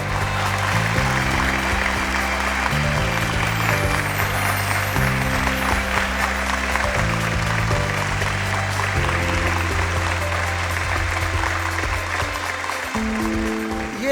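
A studio audience applauds a poet on a televised Eid special, the clapping sustained and steady throughout, laid over a continuous musical backing.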